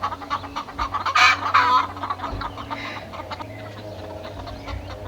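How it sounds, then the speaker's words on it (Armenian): Backyard chickens cluck in a few irregular bursts over a steady background hum, fairly close, with no talk. "Ինչ կան, կչկչում են։"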